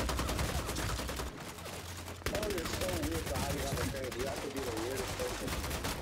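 Gunfire from strafe shooting in the video game Bloodhunt, heard as dense rapid bursts that run through the whole stretch, mixed with game music and a steady low rumble.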